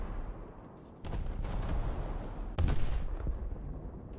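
The German battleship Scharnhorst fires in a naval combat game: heavy booming gun salvos strike at two points over a constant rumbling battle din, loud and close.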